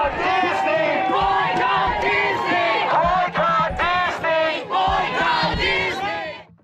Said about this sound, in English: The crowd started chanting as he raised a guitar in one hand.